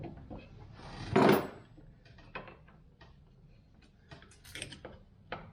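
A Yamaha YXZ1000R side-by-side door with a spring installed, giving one loud clunk as it shuts, followed by softer mechanical clicks and rattles of the latch and hardware, close up.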